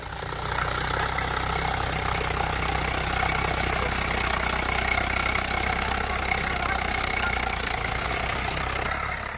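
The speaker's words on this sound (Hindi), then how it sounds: "किसान अपने ही खेत में अपनी ही फसल पर ट्रैक्टर चलाकर उसे बर्बाद कर रहा है" A tractor engine drones steadily as it runs over a cauliflower crop in a farm field in Samastipur, Bihar, a loud, close, unbroken mid-to-low rumble lasting the whole stretch.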